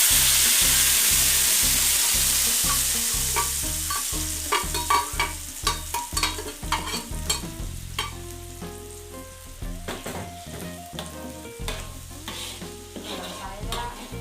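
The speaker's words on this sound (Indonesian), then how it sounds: "Sekarang kita tumis bumbunya ya." Ground spice paste for Medan-style carp arsik with andaliman sambal sautéed in hot oil, a loud steady sizzle with repeated stirring scrapes and clatters, fading slightly as it goes.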